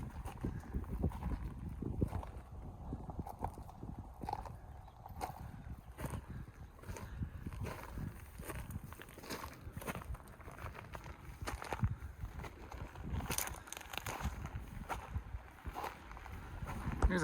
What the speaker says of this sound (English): There's too much wind.